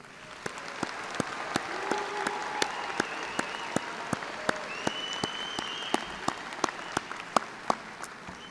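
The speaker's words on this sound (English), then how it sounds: "Please join me in a round of applause." Applause at a dentistry college graduation ceremony: a moderate crowd clapping steadily, with a few louder, distinct hand claps standing out from the wash and faint voices and cheers mixed underneath.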